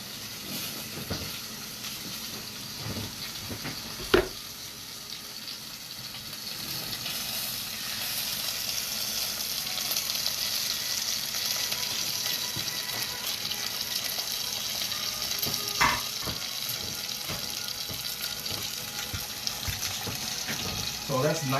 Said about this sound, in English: I have a hot pan going.